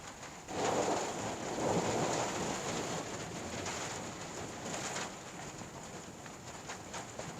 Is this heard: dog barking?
no